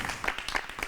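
Brief burst of studio audience applause on a French pastry competition show, a dense wash of clapping with a few sharper claps rising above it, steady and moderately loud throughout.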